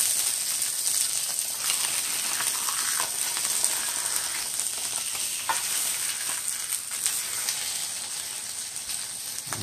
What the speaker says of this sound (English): Alright, onto the fire. A little sizzle.